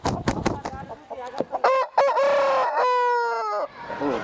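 A rooster of a large double-body-size breed at a poultry farm in Nellore crows loudly and close, one long drawn-out crow following a few short clucks and rustles.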